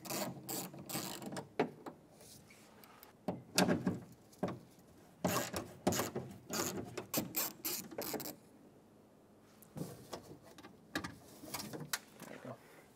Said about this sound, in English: Now with a 10mm socket, remove the two mounting nuts that hold the door handle on the inside of the door.